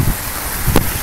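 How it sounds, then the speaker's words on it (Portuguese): Heavy rain driven by wind in São Vicente at night, a steady broadband wash of falling water and gusts that stays even and close throughout, with one brief sharper burst near the end. "Olha, chuvarado em São Vicente."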